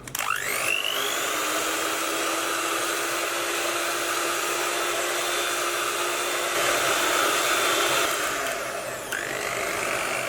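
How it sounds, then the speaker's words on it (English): An electric hand mixer with whisk attachments beats a caramel fudge mixture on high speed, giving a loud, steady motor whine that runs unbroken for the whole stretch, with only a brief dip near the end. "with a beater, with the whisk attachments, we're just going to beat this on a high speed until it's thickened up"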